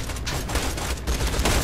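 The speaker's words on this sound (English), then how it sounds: "Yeah, I'm using a shotgun at long range." Rapid, dense shotgun fire from a Borderlands 2 firefight crackles in a continuous loud volley, the blasts overlapping with little pause.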